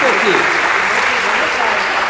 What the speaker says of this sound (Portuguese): uma salva de palmas aí, muito bem.